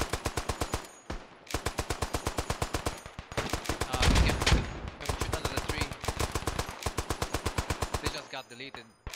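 Heavy machine gun in the WW1 shooter Beyond the Wire firing long rapid bursts close by, each burst a dense string of sharp shots separated by brief pauses, with a louder blast rumbling in the middle.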